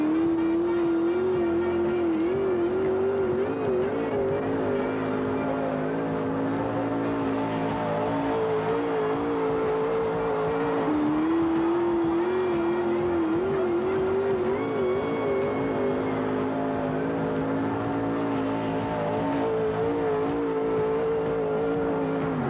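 Loud, continuous engine roar with rising and falling revs from truck and tractor pull competition engines straining under heavy load, steady throughout with no pauses.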